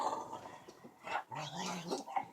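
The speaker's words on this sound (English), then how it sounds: "why are you barking, honey?" A dog makes a few short, strained bark-like yelps and growly noises, close by and moderately loud, with brief pauses between.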